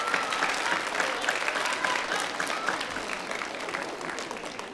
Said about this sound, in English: Can you give them a nice round of applause right now?